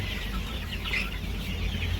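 Kaveri gavran chickens cluck and chatter continuously at a poultry farm, a busy flock sound with overlapping calls over steady background hum.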